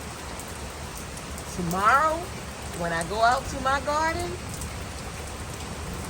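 Steady rain falls continuously as a broadband wash throughout, with someone speaking over it in the middle.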